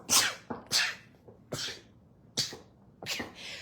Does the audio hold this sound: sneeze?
yes